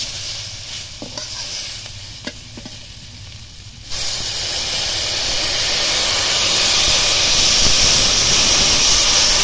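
Water poured into a hot pan of fish curry, made with live magur catfish and jackfruit seeds, bursts into a loud steady hiss of steam and sizzling, after a few seconds of quieter kitchen noise.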